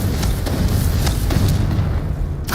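In Hogwarts Legacy, a Confringo spell sets off a loud, deep explosive boom followed by a rumbling burst that carries through the short moment.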